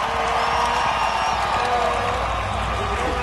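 Stadium crowd noise swells at the 2011 Monster Energy Cup best trick motocross contest, a dense continuous roar mixed with a commentator talking over it.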